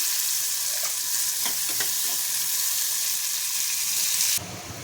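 Garlic and chopped onion fry in hot oil, a loud, steady crackling sizzle with a few faint stirring taps; the hiss drops off abruptly near the end.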